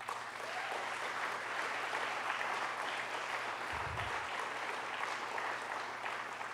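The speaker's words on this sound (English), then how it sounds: "Again, a round of applause." Sustained audience applause after an evening of talks in Ottawa, an even, continuous roar of many hands clapping from start to finish, with a brief low thump partway through.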